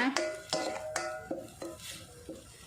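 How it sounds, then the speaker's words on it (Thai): A spatula clacks and scrapes against a pot in bright, evenly spaced strikes as curry paste and pounded grilled fish are stir-fried in coconut milk, with quiet talk faintly underneath. "ผัดกับกะทิให้หอมค่ะ"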